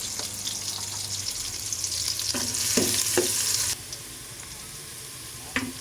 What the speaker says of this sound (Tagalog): Sabay na natin yung bawang sibuyas. Wait natin until golden brown.